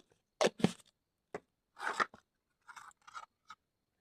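Kohlrabi and beans cut by hand for a fish and kohlrabi dish, a handful of short crisp chopping and snipping sounds in uneven bursts, close and fairly quiet with pauses between.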